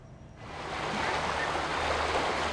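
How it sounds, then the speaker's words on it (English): A creek's current rushes steadily along the Blue Ridge Music Trail near Sylva, a dense, continuous broadband wash that swells in after a brief quieter start and holds at a moderate level. "The current in the creek creates a nice baseline along the Blue Ridge Music Trail"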